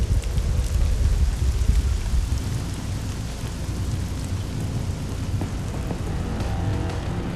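Heavy rain pours onto the deck of a sandeel fishing boat out at sea during a sudden unforecast downpour, a loud continuous hiss with deep rumbling wind and low noise underneath and no voices.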